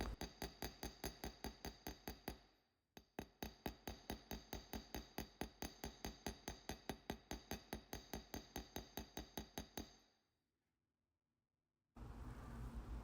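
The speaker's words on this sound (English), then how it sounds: "it's important that you anneal your pieces before hammering" Rapid, steady metallic hammer taps ring out on annealed silver sheet as texture is hammered in, a brief pause early on, then the tapping stops and goes quiet.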